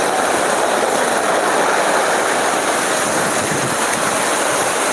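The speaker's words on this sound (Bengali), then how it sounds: "খুবই ঝড় চলছে।" Heavy rain and storm wind lashing down in Sylhet during a sudden squall, a loud, dense, unbroken roar of downpour with no letup throughout.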